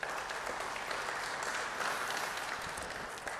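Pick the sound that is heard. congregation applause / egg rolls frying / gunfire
congregation applause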